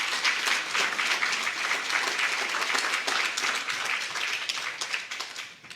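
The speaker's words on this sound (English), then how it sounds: "Ladies and gentlemen, a round of applause," Steady applause from an audience at a book launch and check presentation, dense clapping sustained evenly at moderate level before tapering slightly at the end.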